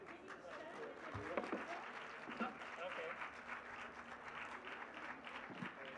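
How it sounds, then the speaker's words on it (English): Audience applause at a literature festival book session in Jaipur, a fairly faint, steady patter of clapping heard from a distance, with some voices and a louder clap or two mixed in. "Big round of applause."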